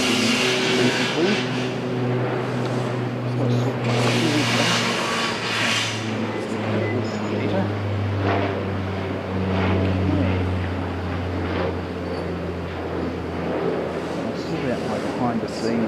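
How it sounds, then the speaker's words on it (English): Jetstar airliner at Okinawa airport, a continuous engine roar and hum with steady low tones, heard at a distance under someone talking. "Here's a Jetstar."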